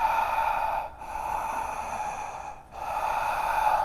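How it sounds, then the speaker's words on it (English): Ujjayi yoga breath drawn through the nose with the mouth closed during a yoga class: a steady, hissing, ocean-like airflow sustained for long stretches, broken by two brief pauses between breaths, close and fairly loud. "practice that Ujjayi breathing"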